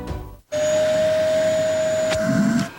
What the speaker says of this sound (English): When your vacuum cleaner loses suction, your first instinct is to shake or hit it to unblock the clog.